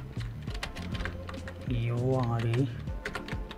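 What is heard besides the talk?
typing text on a computer keyboard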